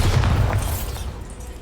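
A Bombarda spell explosion in Hogwarts Legacy on PS5, heard as a loud, deep booming blast that rumbles at the start and then fades away over about a second, with no voices.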